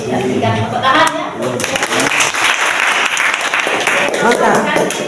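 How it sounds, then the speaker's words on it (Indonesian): Audience applause at an education lecture on quality assurance systems, dense sustained clapping filling the whole stretch with steady loudness, a voice briefly audible near the start. "Dan berikan tepuk tangan ya."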